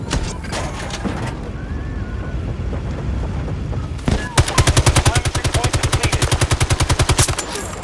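Automatic rifle fire in the shooter video game Battlefield 2042, a sustained rapid burst of evenly spaced shots close and loud, following a stretch of muffled battle noise and distant shots.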